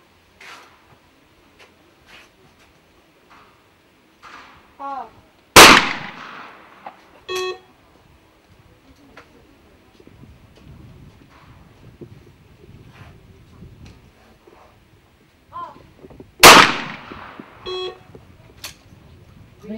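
Shotgun blasts ring out at an outdoor trap shooting competition, two sharp loud reports spaced about eleven seconds apart, each trailing into an echo, with faint beeps and wind noise between.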